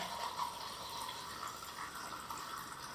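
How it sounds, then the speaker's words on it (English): Film developer liquid pours steadily into a container during E6 slide film developing, a continuous close splashing gush with no talking. "pour the developer in"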